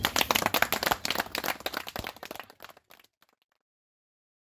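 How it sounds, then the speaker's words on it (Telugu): A crowd claps loudly and steadily, the applause thinning out and fading to silence after about three seconds. "క్లాప్స్ ఇయ్యండి అందరూ"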